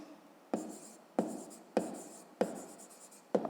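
A pen writes by hand on paper, making five separate scratchy strokes at a steady pace, each starting with a sharp touch and fading away. The sound is close and quiet, and no one speaks.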